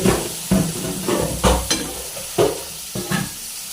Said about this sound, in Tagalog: yung ating ipipirito, pinagsabay-sabay na natin